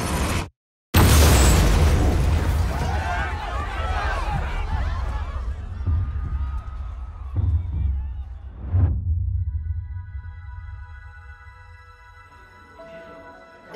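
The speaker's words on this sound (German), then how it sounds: "Du solltest wissen, es gab eine Explosion." A sudden loud blast booms nearby at the Boston Marathon after a brief silence, followed by a long rumbling decay and scattered clatter that slowly fades to quiet.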